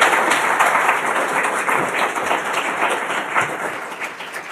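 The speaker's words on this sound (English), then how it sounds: "let's give a round of applause to our three speakers" Audience applause for three speakers at an Iowa City Foreign Relations Council food justice program, a dense steady wash of clapping that carries on for the whole stretch without talk.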